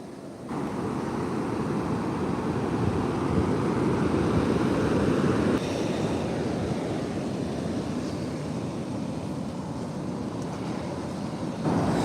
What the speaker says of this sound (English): Oh, look at the waves coming in now.